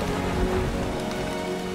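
Steady rain pours onto foliage in a Chinese rainforest during the rainy season, a dense, continuous hiss of drops on leaves with no voices.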